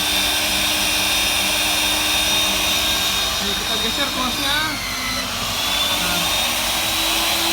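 A scraper machine facing the end of a 14-inch HDPE pipe for welding runs with a loud, continuous whirring drone close by, while someone talks over it.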